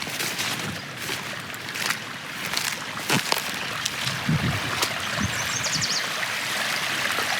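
Rainwater overflowing a swale through an unintentional spillway after a downpour, a continuous rushing, trickling stream with scattered sharp splashes and pops.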